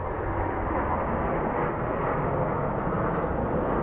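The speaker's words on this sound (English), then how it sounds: "It's a Boeing 737 MAX." A WestJet Boeing 737 MAX jet airliner departs Phoenix Sky Harbor International Airport, its steady broadband engine roar filling the scene loudly and continuously without a break.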